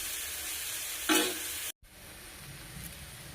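Chopped onions and green chillies sauté in a hot pan, giving a steady soft sizzle with one brief louder stir near the middle and a short break before the frying resumes.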